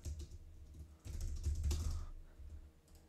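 Typing on a computer keyboard, quick irregular clicking keystrokes in short bursts with a brief pause, close and fairly quiet, no voices.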